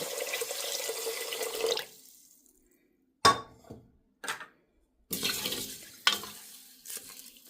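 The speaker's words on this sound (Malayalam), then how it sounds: "ഇപ്പോൾ ഞാൻ ഇതിലേക്ക് വെള്ളം ഒഴിക്കാൻ പോകുന്നത്" Plain cold water is poured over rice and lentils in a pressure cooker pot, heard as several separate splashing pours, each loud and close, with short silent gaps between them.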